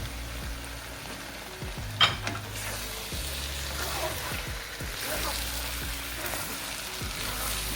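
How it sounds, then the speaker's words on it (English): Pasta tossed in a frying pan for a spicy butter pepper shrimp dish sizzles steadily, with repeated scraping and knocking from stirring running through the whole stretch and one sharper clack near the start. "So I'm gonna go in with the pasta. So you wanna put that and keep stirring."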